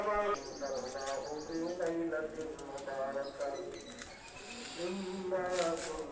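A male Chinese Kamagar pigeon coos in repeated low rolling phrases, close by, over a busy background with someone speaking now and then and other birds chirping faintly.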